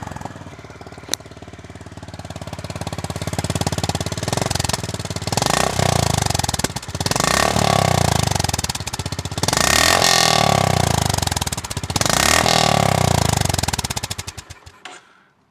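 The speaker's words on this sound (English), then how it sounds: "Honda says it's got that nice little kind of single cylinder thud to it" A Honda GB350S single-cylinder, long-stroke motorcycle engine runs loud and close, its throttle repeatedly blipped in uneven surges over a steady chugging thud.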